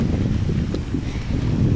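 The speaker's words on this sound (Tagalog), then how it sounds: "Ang hangin-hangin." Wind gusts blow across a beach in Tairua, New Zealand, a loud, steady rushing and buffeting at the microphone with no voices.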